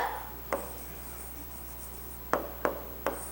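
A pen writes down equivalent fractions for a Class IV maths exercise: four short, sharp scratching strokes against a quiet background with a faint steady hum, close up and unaccompanied by speech.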